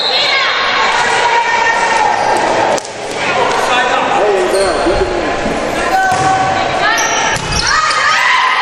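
A crowd at a college volleyball match between Tampa and Barry cheers and shouts in a gym, loud and sustained, with a commentator talking over it and a brief dip midway.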